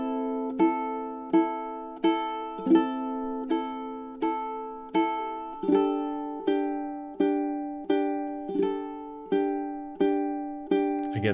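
A solo ukulele plays the intro of a tune, plucking evenly spaced notes and chords in a steady rhythm, each one ringing and decaying before the next.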